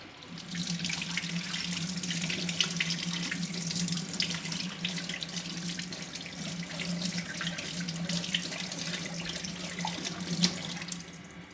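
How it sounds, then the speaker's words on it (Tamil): Running tap water pours steadily into a sink for the whole stretch, with splashing and shifting flow as a metal pooja vessel is rinsed under it. "இதை நான் அந்த தண்ணியில் நல்லா கழுவ போகிறேன்"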